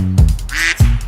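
A loud, close duck quack sound effect from an IPL cricket ad, two short nasal quacks with a drawn-out call between them, heard alone.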